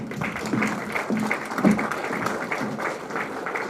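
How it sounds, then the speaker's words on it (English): A conference audience stands and applauds a senior public-service official, a steady wash of many hands clapping with a few murmuring voices underneath. "We can stand and give him a clap."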